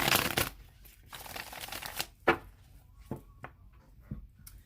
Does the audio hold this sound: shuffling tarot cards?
yes